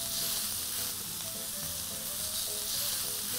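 Hamburger patties sizzle loudly in a hot pan on a stove, pressed down, a steady crackling hiss with faint tonal hum underneath.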